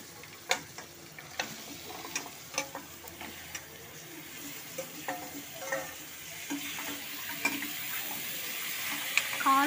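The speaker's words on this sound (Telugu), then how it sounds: "ఉల్లిపాయ ఆల్మోస్ట్ బాగా వేగిందండి. మనం దీంట్లోనూ ఈ కాళ్ళు ముక్కల్ని యాడ్ చేసుకుందాం." Onions and mutton trotters fry in a pan with a soft, steady sizzle, broken by close, sharp clicks and scrapes of a spoon stirring, and no one talking over it.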